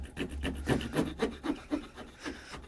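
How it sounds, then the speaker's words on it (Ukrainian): A thin single-row saw blade on a budget multitool cutting a 2 by 2 cm piece of wood, with close, rhythmic rasping back-and-forth strokes, about ten in quick succession, alone without talk. "Ось ця пилка, ця тонча, з одним рівнем зубів. Пробуємо кусочок отут відпиляти."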